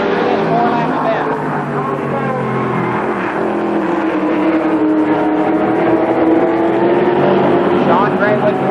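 Race cars roar continuously around the Columbus Motor Speedway during a four-lap trophy dash in 1998, engines droning loud and steady with a rising and falling pitch, under a race announcer's voice.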